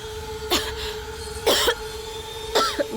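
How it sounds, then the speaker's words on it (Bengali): A person in a Bangla TV drama scene coughs three times, each cough a sharp, loud, close burst spaced about a second apart over a steady background hum. "নিজের অবস্থা দেখো কি কাশি হচ্ছে তোমার"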